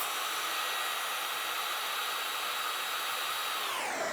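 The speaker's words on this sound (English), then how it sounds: "just keep your blow dryer there, but don't put it too close" A blow dryer runs steadily and loudly at close range while melting crayon on a canvas, a constant whooshing roar that dips in pitch near the end.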